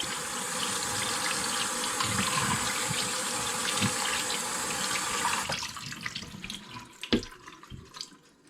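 Hot pasta water pours out through a colander into a kitchen sink, a steady close gushing splash for about five seconds that then thins to sparse drips and trickles, with no talk.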